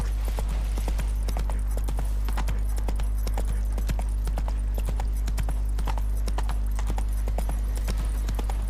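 Horse hooves clip-clopping in the video game The Witcher 3, a steady, fairly close rhythm of hoof strikes that keeps going throughout over a low constant hum, with no talking.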